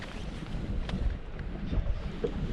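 Wind gusting steadily across an anchored boat on open water during pike fishing, a continuous low rushing buffet against the microphone with no talk.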